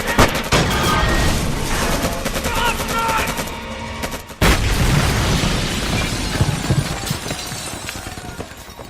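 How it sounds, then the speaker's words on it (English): Tanks blow up a building in a war-film scene from Children of Men, with loud blasts, crashing debris and bursts of gunfire in a dense, chaotic barrage, broken by a brief drop midway before erupting again. "The tanks, it's gonna completely blow up the whole building."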